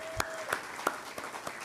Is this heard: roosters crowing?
no